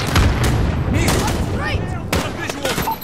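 A missile launch and explosion in Call of Duty: Modern Warfare 2019 campaign combat. Dense gunfire and sharp blasts run throughout, with whooshing streaks and a few heavier booms, all loud and close.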